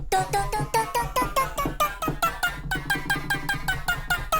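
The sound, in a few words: vocal chops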